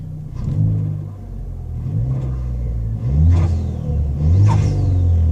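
A Ford Fiesta ST engine with a 2J intake idles low, then revs up a couple of times in neutral in short swells before settling back, close and steady with no talking.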